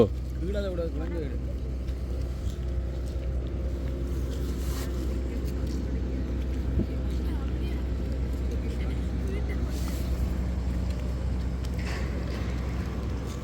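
Low motor drone of a boat on the river at Nayaru bridge, steady and fairly distant, running continuously beneath people talking nearby.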